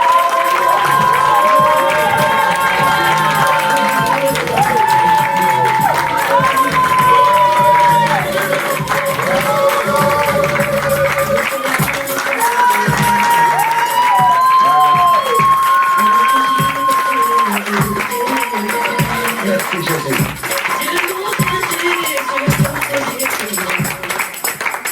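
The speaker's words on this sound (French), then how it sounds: "mes bien-aimés, nous acclamons" A church seminary audience cheers and shouts continuously at close range, a dense, loud crowd roar with whistles and clapping that holds steady throughout.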